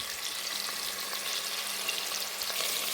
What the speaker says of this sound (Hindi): तो इसलिए हम इसको थोड़ा सा फ्राई कर लेते हैं, थोड़ा सा कुक कर लेते हैं।